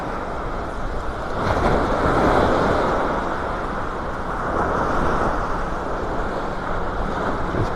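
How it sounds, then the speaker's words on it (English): Ocean waves washing onto a beach at sunset, a steady broad rushing surf with gentle swells in loudness, mixed with some wind noise on the microphone. "Let the sounds of the waves take over here."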